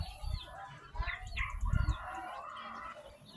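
A hen near a breeding cage clucks in short, close bursts while other fowl call faintly in the background.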